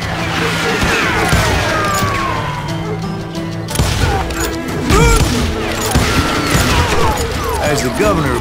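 Gunfire and crashing action from the western shooter game Call of Juarez Gunslinger, loud overlapping shots and impacts layered with music and shouted character voices.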